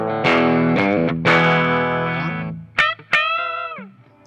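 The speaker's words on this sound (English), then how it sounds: "if you're more of a rocker, you can do that too with the bridge pickup." Gibson ES-275 Thinline P90 hollow-body electric guitar from 2019, played through its bridge pickup with distortion: a few loud sustained, biting chords and riffs, then two short stabs and a ringing chord that fades out, with no talking.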